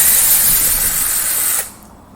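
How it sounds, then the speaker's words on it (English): A power drill fitted with a Torx bit runs steadily for about a second and a half, backing out the engine cover screws on a Poulan Pro leaf blower, then cuts off abruptly and leaves only faint room noise. "I recommend a power tool like this with a Torx bit"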